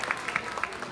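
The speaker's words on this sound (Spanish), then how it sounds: "Fuerte el aplauso" Audience applause at a fashion show in Chicago: a short burst of clapping with a few sharper claps, moderately close and fairly steady.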